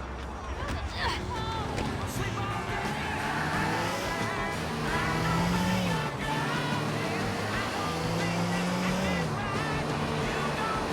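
A car is driven in the video game GTA IV, its engine droning and shifting pitch as it speeds along, with a couple of rising and falling revs under steady game sound and a voice talking throughout.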